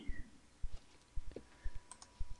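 A handful of separate key clicks tap out a short word on a computer keyboard, close and fairly quiet with small pauses between presses, no voices.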